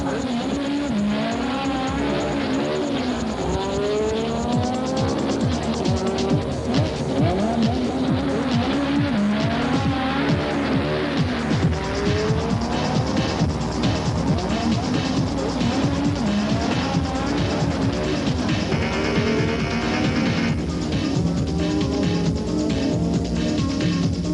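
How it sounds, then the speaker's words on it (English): A Volkswagen car drives hard. Its engine revs up and down in rising and falling sweeps, with repeated tire squeals and skids, loud and continuous for the whole stretch. "Volkswagen."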